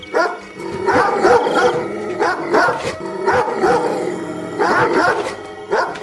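Several dogs bark loudly and excitedly in overlapping bursts, with yips and whimpers mixed in, close by and without pause.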